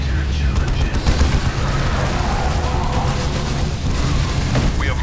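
Battle in the real-time strategy game Dawn of War 2 crackles with dense, continuous gunfire, booms and explosive bursts, loud and layered, with faint game voices mixed in.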